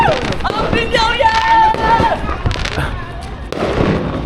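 Fireworks burst at a New Year celebration in East Africa, billed as the region's largest display, with loud crackling pops and booms running throughout amid crowd noise and excited voices.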